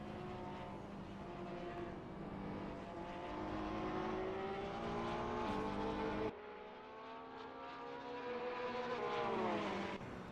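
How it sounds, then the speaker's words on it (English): A Ferrari 488 GT3 race car at Mugello in a racing game: steady engine tones climb through the gears, a clear upshift cuts in midway, then the engine winds up again, loud and close throughout. "FTSE 36 in Biondetti is 5th on softs driving a Ferrari 488 GT3"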